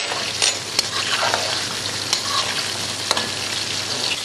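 Pieces of chicken fry in hot oil for Kolkata-style chilli chicken, producing a dense, continuous close sizzle and bubbling with occasional sharp clicks from stirring, and no voices.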